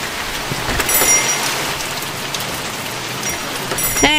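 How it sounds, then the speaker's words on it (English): Steady heavy rain from the video game The Mortuary Assistant pours down, a constant dense hiss with occasional brighter drips and taps, and no voices. "It's always raining when I show up to work."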